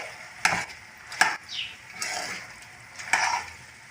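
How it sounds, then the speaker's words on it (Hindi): Macaroni coated in spices is stirred in a pan, several distinct scraping swishes of a spoon spaced a second or so apart over a soft low sizzle, fairly quiet and close. "हमने इसमें मैक्रोनी को ऐड कर देना है और अच्छी तरह से इसको हिलाना है"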